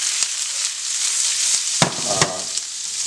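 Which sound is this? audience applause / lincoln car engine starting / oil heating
oil heating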